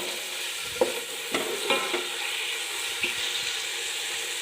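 Chicken sizzles steadily in a pan for pasta, with a spoon scraping and stirring in a few distinct strokes over the constant hiss of frying.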